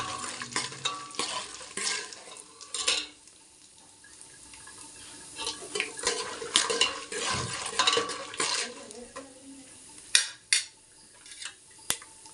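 Chana dal frying and being stirred in a pan while making upma for breakfast, with repeated scraping and clinking of a spoon against the pan over a soft sizzle and a few sharper knocks.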